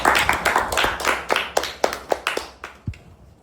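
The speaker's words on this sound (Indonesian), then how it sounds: "Aplaus dulu dong." A small group clapping after a band's final school performance, a quick irregular burst of close handclaps that slows and thins out toward the end.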